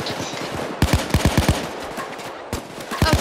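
Rapid bursts of automatic gunfire in the video game Payday 2, loud and close, sharp repeated shots in quick rhythmic strings with brief gaps between bursts.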